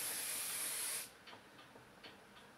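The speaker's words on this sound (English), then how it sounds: "I'm gonna give it a final spray." A steady hiss of aerosol hairspray for about a second, then quiet with a few faint short puffs.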